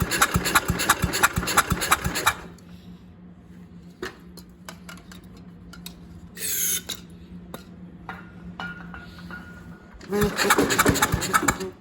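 A Jacobsen Chief 800 garden tractor, long left sitting outside, roars loudly as its engine runs, drops to quiet clicks and rattles, then the engine bursts back to life, with a voice speaking in between.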